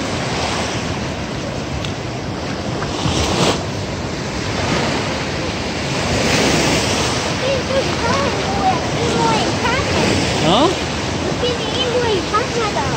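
Ocean waves wash in at Haeundae Beach in Busan, a continuous broad surf roar mixed with wind buffeting the microphone, while people chat close by over the water.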